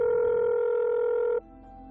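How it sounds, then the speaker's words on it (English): A telephone rings at midnight with a loud, steady electronic tone that holds for over a second and then cuts off abruptly, leaving a faint background hum. "It was midnight when the phone rang."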